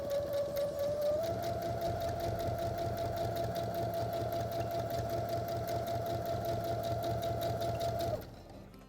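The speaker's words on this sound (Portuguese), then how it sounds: "E agora é só passar a máquina de costura." A sewing machine runs continuously, stitching fabric for a children's hygiene kit, a fast even whir and rattle that holds for about eight seconds before stopping abruptly.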